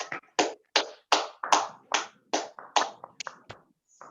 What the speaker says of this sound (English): Let's all unmute ourselves and have a round of applause.